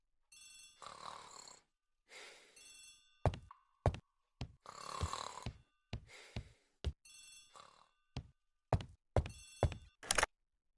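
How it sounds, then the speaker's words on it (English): An old-fashioned telephone rings in a house hallway, sounding in repeated double bursts of bright metallic bell tones separated by short pauses and sharp thunks, loud and near with no talking. "The telephone in the hall is ringing."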